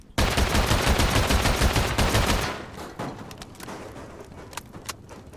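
Rapid SKS rifle fire in a video game, a dense loud burst of sharp repeated shots for about two seconds, then scattered single cracks and softer distant pops.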